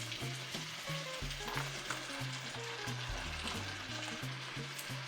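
Artichokes and carrots for Greek anginares a la Polita sizzle in a pan with a continuous moderate frying hiss, with a low rhythmic tonal backing underneath and no talking.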